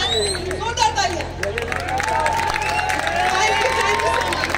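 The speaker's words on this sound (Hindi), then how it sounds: "एक बार जोरदार तालियां हो जाए हमारे आज के कंटेस्टेंट्स के लिए" Applause and crowd noise greet the contestants at an open bodybuilding championship in Dera Bassi, Punjab, a steady babble of claps and voices with an announcer's voice riding over it throughout.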